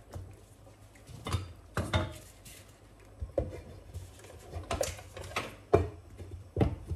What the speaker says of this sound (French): je vais fermer la poêle